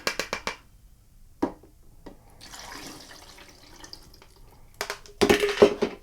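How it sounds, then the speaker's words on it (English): Liquid is poured into a black-and-white film developing tank, giving several short splashy bursts at the start, a soft stretch of trickling in the middle, then a louder rush of pouring and sloshing at the end, close by. "I'm going to pour in."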